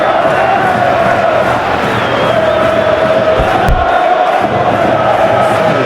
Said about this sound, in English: being applauded off here, having made a sizable contribution